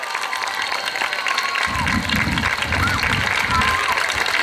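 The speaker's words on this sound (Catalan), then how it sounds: "I al públic, com no, un aplaudiment per tots!" An audience bursts into sustained applause at a school Sant Jordi performance, a dense wash of clapping that swells after a moment, with voices and cheering mixed in.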